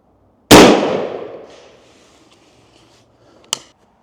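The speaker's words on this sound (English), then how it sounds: "this is going to be the last 3 shots with the Winchester Long Beard" A Rossi Tuffy .410 shotgun loaded with a Winchester Long Beard TSS turkey load fires one loud, sharp blast outdoors, and its echo decays over about a second. A faint metallic click follows a few seconds later.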